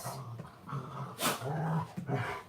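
Dogs growl and whimper in the background of a home, with low grumbles, whiny yips and a sharper bark-like burst partway through, moderately faint and continuous.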